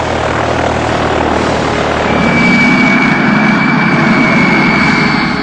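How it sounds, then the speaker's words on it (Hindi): Airliner taking off as a news-graphic sound effect for Malaysia Airlines flight MH17 leaving Amsterdam, a loud steady engine roar that swells and gains a rising whine partway through, with no voices. "मलेशियाई एयरलाइंस के विमान MH17 ने एम्स्टर्डम से उड़ान भरी"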